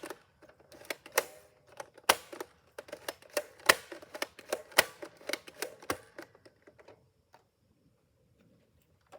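A Nerf Firefly blaster fires darts in a quick run of sharp clicking snaps, crisp and close, bunched irregularly before tapering off into silence.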